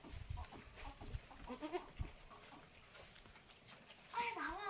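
A Beetal buck goat being raised on a farm gives a short, close bleat near the end, after shuffling and faint background voices.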